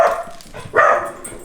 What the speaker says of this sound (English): It's another dog.